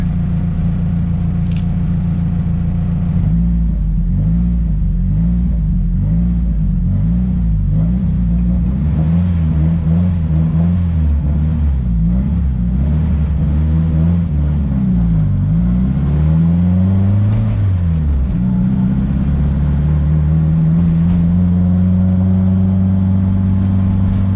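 Nissan S14 engine revving hard through repeated acceleration pulls, loud and close, with rising and falling engine pitch sweeping over a steady rumble and no talking.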